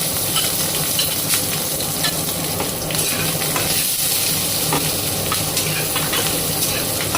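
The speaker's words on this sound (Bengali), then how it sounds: "এবার তেলটা গরম হয়ে গেছে, এর মধ্যে রসুন আর কাঁচা লঙ্কা ফোড়ন দিয়ে দিলাম।" Garlic and green chilies sizzle loudly in hot oil in a pan, a constant crackling fry close by, with occasional stirring scrapes breaking through the steady hiss.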